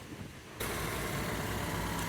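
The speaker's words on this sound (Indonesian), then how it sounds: "Kemudian kita coba nyalakan mesinnya ya." A 1997 Honda Civic Ferio sedan with automatic transmission fires up after a brief pause and settles into a steady, smooth idle with an even, constant engine hum.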